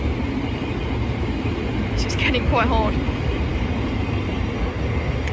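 A train rolls through London Bridge station with a steady, loud rumble that fills the whole stretch, and a brief squeal cuts in partway through. A person talks over it.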